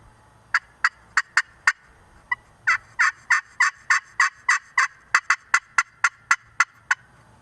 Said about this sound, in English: This is an older call here. This is a HS Strut Black Widow.